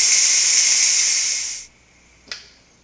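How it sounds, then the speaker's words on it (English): Steam hisses loudly and steadily from the pressure release valve of a Ninja Foodi pressure cooker after cooking steel-cut oats, then cuts off abruptly, followed by a single short click-like burst. "Okay, let's release our pressure."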